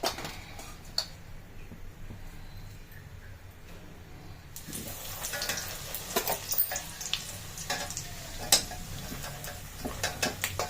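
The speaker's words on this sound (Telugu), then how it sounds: "బూందీలోకి పల్లీలు వేయించుకున్నాము" Peanuts fry in hot oil for boondi, a steady soft sizzle with scattered ticks and crackles that grows busier and more popping midway, close up and alone.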